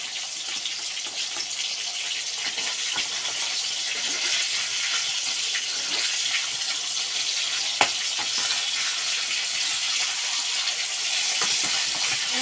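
Fish fries in a pan with a dense, steady, close sizzle that holds at an even level throughout, with only a single brief louder crackle.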